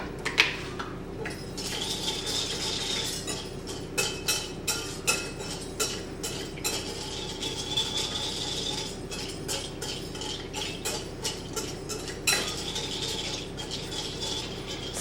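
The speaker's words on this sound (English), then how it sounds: "So just keep stirring this until it's all melted." A spoon stirs melting chocolate in a pot for chocolate eclairs, giving repeated scraping and clinking taps against the pan in an uneven rhythm over a steady low hum, close by and with no talk.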